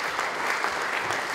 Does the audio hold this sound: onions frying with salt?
no